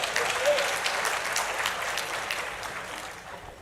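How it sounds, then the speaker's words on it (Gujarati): Women in a lecture hall audience applauding together, a dense burst of clapping that peaks early and gradually thins and fades over a few seconds. "હવે બેનો તાળી પડો."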